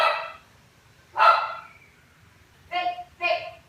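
A dog barks in separate bursts: one sharp bark, another a second later, then a quick pair of barks close by with quiet between them.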